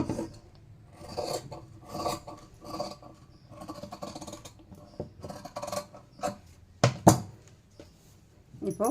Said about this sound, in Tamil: இப்போது front neck back neck cut பண்ணியாச்சு.